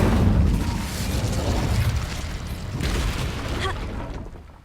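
A fire spell is cast in Hogwarts Legacy with a loud, deep burst and rumbling roar that swells, dips, then flares again with a crackling flourish before fading away, and no voices.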